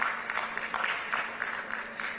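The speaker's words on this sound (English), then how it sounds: "Please clap for him." Scattered audience applause at an international AIDS and STI conference panel, a brief patter of clapping heard from a distance over low room hum.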